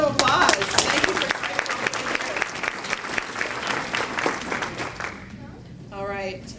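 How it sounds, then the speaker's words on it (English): A room of attendees at a Latino Leadership Network community meeting breaks into a round of applause, dense clapping that is loud at first and then tapers away, with a brief voice surfacing near the end. "Let's give a round of applause."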